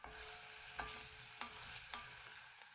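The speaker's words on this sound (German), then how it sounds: "Nun gebe ich die Zwiebelwürfel in den Topf und schwitze sie unter ständigem Rühren an, bis sie weich und glasig werden" Diced onions sweating in olive oil in a pot, a quiet, even sizzle broken by a few spaced spoon scrapes as they are stirred constantly.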